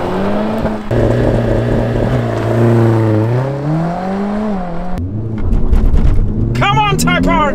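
A 2021 Honda Civic Type R accelerates hard in a drag race against a 2022 Mercedes GLA 45 AMG, its engine note climbing steadily in pitch and dropping at gear shifts, loud and close, while a person talks over it.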